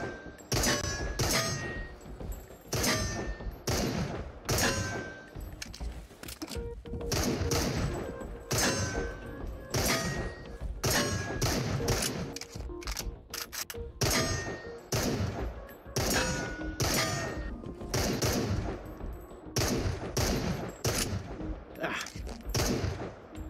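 Dense, continuous gunfire during a kill house run in a shooting video game, rapid shots and bursts with impact thuds and metallic clangs throughout, loud and close.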